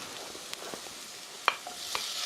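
Shrimp tossed into onions stir-frying in a pan, giving a quiet continuous sizzle with a few short scraping and clacking stirs, the sharpest near the middle of the brief moment.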